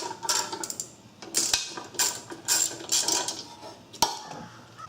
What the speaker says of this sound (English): Going to be removing the air cleaner base, three bolts, 5/16 socket.